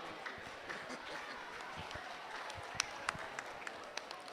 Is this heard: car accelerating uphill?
no